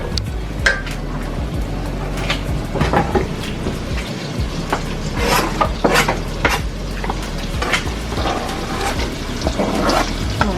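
Garlic and Cajun pasta ingredients sizzling and popping in a pan on a stove turned down low, a steady crackle with scattered sharp pops throughout.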